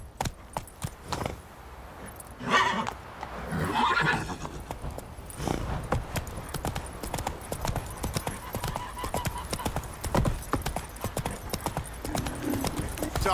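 Horses on a busy street whinny and neigh while hooves clip-clop steadily and close, with a few voices and general bustle in the background.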